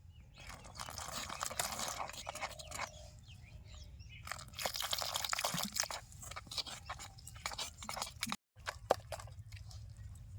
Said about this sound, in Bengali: এবার অল্প অল্প করে জল দিয়ে একটা ঘন একটা মিশ্রণ তৈরি করে নেব